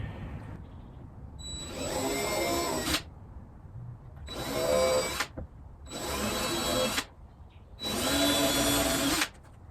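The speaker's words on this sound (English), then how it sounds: "So try to drill the pilot hole in the center of those points to give you the most wiggle room" A power drill bores pilot holes for cabinet hinges during a laundry room remodel, four close whirring bursts of a few seconds each, separated by short quiet gaps.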